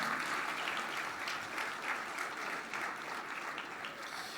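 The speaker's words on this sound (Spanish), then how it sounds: "Fuerte ese aplauso de alabanza al Señor" A church congregation applauds in praise, a dense, even wash of many hands clapping that stays steady and fairly distant throughout, with no voices over it.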